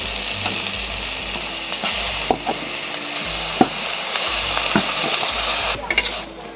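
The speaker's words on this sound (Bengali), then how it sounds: "সব কিছু উপকরণ দিয়ে আমি ভালো করে ভেজে নেব।" Marinated chicken sizzles steadily in a pan over a medium gas flame with spices, with scattered knocks of a spoon stirring throughout, the frying hiss continuous and fairly close, no talk.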